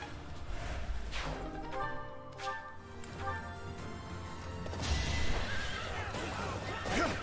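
A horse whinnies loudly with a long, wavering neigh in Fire Emblem: Three Houses, followed by clattering and rustling noise; the sound has a synthetic, game-like quality.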